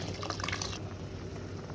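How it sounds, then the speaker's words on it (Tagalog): Water poured into a pot of Ilocano goat meat pinapaitan with red chili, a soft splashing, trickling pour, faint and steady, with the bright spattering fading after the first moment into a low continuous wash. "At lalagyan na natin ito ng tubig."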